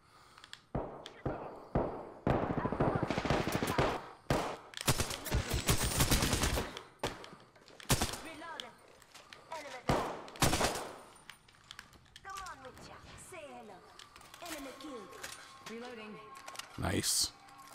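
Rapid bursts of SMG fire in the Apex Legends battle royale, loud and crackling in several clusters with short gaps, mixed with other game effects and chirpy sounds near the end.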